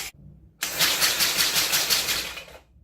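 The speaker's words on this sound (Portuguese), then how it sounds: "É interessante que dá para ligar ele soprando só se a gente quiser, dá uma olhada." A small compressed-air motor, started by blowing, kicks in abruptly and runs with a close, steady buzzing rattle for about two seconds before cutting off.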